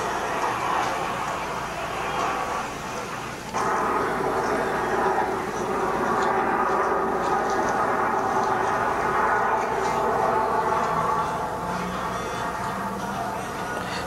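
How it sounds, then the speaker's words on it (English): Air show aircraft engine roar played back through a Lenovo Chromebook's built-in laptop speakers, a continuous loud rumbling drone with a brief dip in level and no speech. "So this is just a clip from my Toronto Air Show video"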